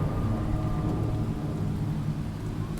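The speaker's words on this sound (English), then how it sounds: "Hear thunder and rain." Thunder and rain in the video game Jenny LeClue, a dense, continuous low rumble with steady rain hiss, fairly loud and unbroken, with no talk.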